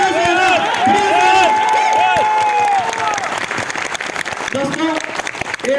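Loud applause and cheering from a crowd at a large motivational programme in Kolkata, with a speaker's voice and musical tones riding over the clapping before it thins out.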